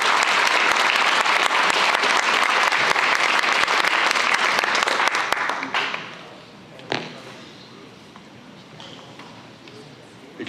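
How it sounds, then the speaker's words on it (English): Audience applause at a high school spring signing day as a student signs his scholarship, steady loud clapping for about five seconds that then fades to a quieter room with a few stray claps. "Another round of applause as he's officially signed his scholarship down there for us."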